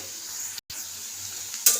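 Flattened rice for chire pulao fries in a pan with a close, steady hiss and sizzle. A brief break interrupts it, and stirring scrapes follow.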